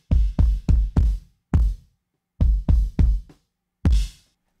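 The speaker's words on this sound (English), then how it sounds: "this kick is supposed to be sort of a lo-fi, grungy, almost dull sounding kick" Raw, lo-fi, grungy kick drum with a dull tone and no parallel processing, struck in short groups of three and four hits with gaps between them, loud and dry with no other sounds.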